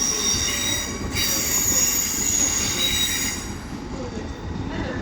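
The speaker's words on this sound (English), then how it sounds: "LNER Azuma departing Doncaster, going via Leeds." An LNER Azuma train departs Doncaster station with a steady loud rumble and high wheel squeal throughout, the squeal dropping away near the end.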